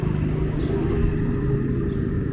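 Busy street traffic in Brooklyn near a major cross street forms a steady low rumble of passing cars and engines that continues without a break.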